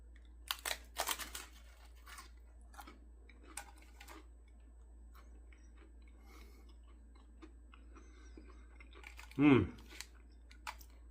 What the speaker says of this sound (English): let me crunch into one for you